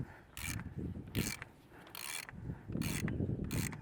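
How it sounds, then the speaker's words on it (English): Repeated ratcheting clicks as a 27 mm socket loosens the oil filter housing cap on a Ford Bronco, coming in several short bursts with pauses between, close and fairly clear. "going to go ahead and take off the cap for the oil filter"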